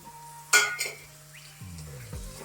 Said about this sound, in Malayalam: നമുക്കിനി വഴറ്റാനുള്ള വെജിറ്റബിൾസും കൂടി ഇതിലേക്ക് ഇടാം.